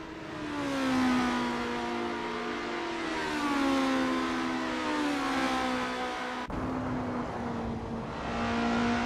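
Race car engines in Assetto Corsa multiplayer racing rev and climb steadily through the gears, a loud, continuous whine with rising pitch sweeps and a sharp shift break partway through, with no talking.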